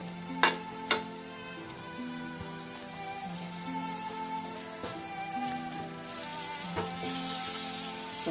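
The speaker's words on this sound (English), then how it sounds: "Let's go and fry in a frying pan." About a teaspoon of butter melts in a frying pan on a stove over a medium flame, giving a steady, soft, close sizzle with a couple of sharp clicks near the start.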